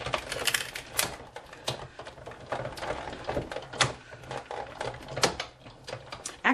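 A Big Shot die-cutting machine cranked by hand to run a butterfly Thinlits die through, a steady series of clicking ratchet snaps with a brief pause midway, close and alone.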